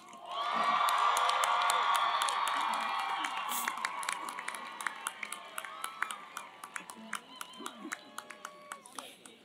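Graduates at a Chico State commencement cheer loudly, a large crowd roaring with whoops and shouts, then settling into scattered clapping and cries.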